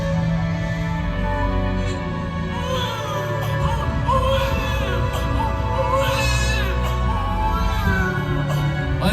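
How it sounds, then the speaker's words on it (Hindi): A baby's wailing cry from a Krishna-birth laser show at Krishna Janmabhoomi, Mathura, rising in wavering bursts over steady, loud dramatic background music. "अरे ये तो बच्चे के रोने की आवाज है।"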